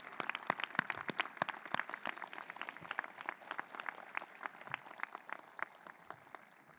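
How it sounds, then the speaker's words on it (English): Scattered audience clapping at a university class induction ceremony, individual claps distinct and fairly quiet, continuing unevenly throughout. "You can clap for him again"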